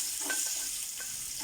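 Onion fries in hot oil with a bright, steady sizzle, joined by a few soft scraping stirs of a utensil in the pan, close up and brief.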